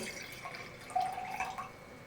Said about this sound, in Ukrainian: Півлітрову баночку наливаю приблизно 100 г води.